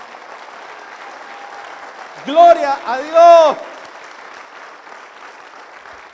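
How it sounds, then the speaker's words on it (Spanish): A church congregation applauds during a service with sustained, even clapping throughout. A voice briefly calls out over the applause in the middle. "Denle un aplauso al Señor esta mañana."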